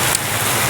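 Heavy rain pours down steadily in a flooded rice-field area, a dense, even hiss close by with no pauses.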